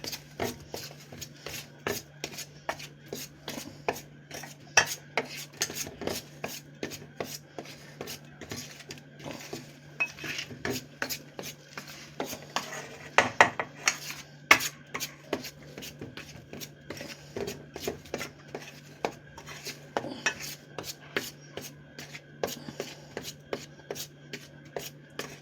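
French fries tossed with salt in a bowl give a long run of quiet, irregular scraping and rubbing clicks against the bowl, close and steady, with no talking.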